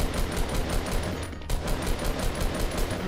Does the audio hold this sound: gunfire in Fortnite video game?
yes